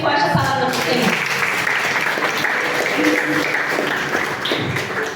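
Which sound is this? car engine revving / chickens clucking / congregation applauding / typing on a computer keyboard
congregation applauding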